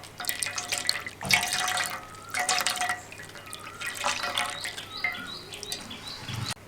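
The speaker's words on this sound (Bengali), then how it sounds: "এখন এই হাতা দিয়ে শাঁসটাকে চেপে চেপে এর মধ্যে থাকা রসটাকে বের করে নেব।" Watermelon juice drips and trickles through a strainer as a ladle presses the pulp, with close, intermittent bursts of liquid splashing and patters between quieter pauses.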